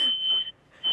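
A kitchen cooking timer sounds two bright electronic beeps, the first sustained and the second starting at the end, loud and close with no talk.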